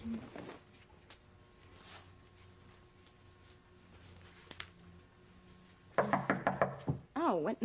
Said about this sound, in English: You don't have to knock.